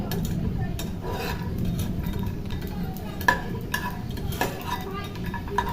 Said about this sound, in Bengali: বড়িগুলো মোটামুটি আমি লাল লাল করে ভেজে নেব